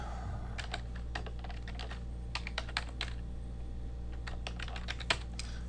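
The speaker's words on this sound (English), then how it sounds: "please ignore what I'm typing now" Someone types on a computer keyboard, producing quick bursts of light key clicks in an irregular rhythm, close but quiet over a steady low hum, with no talking.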